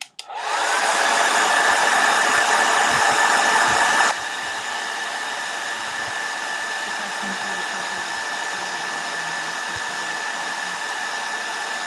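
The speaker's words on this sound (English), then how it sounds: "And get this dry with our hair dryer again." A hair dryer blows steadily and loudly for the whole clip, drying a bleach-dyed flannel shirt, its whine easing to a slightly lower, constant setting partway through.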